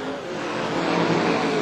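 Dirt late model race cars roar around Carina Speedway, a steady, dense engine drone that swells slightly as they pass, loud and continuous without pause.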